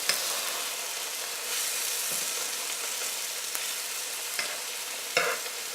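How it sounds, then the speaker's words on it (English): Steak sizzling in a pan while being basted with butter, a loud, steady hiss of frying fat broken by occasional small pops and spoon scrapes. "we're going to have it be basting and grilling on this side for about 3 to 4 minutes"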